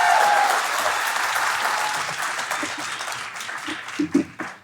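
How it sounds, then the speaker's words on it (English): An audience at a design talk event applauds for speaker Ashley Ackerson, a full, dense burst of clapping that gradually thins out into a few scattered final claps. "So please, 7 extra claps for Ashley Ackerson"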